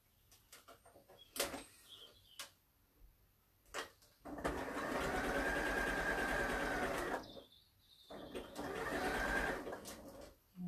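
A sewing machine stitches lace knickers in two steady runs of a few seconds each, close and fairly loud, with light handling clicks and fabric rustling between and before them.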